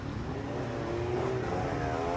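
Classic and retro superbikes with some Grand Prix 250 machines head out on a formation lap at the Imatranajo road race, engines droning and rising in pitch at a moderate distance, with no talking.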